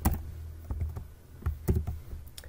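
Code being typed on a computer keyboard, uneven clusters of soft close taps and clicks over a low background hum, with no voice.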